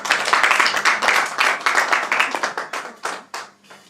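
A congregation at a Congolese wedding applauds, with many hands clapping together in a dense, loud burst that gradually thins into scattered claps toward the end.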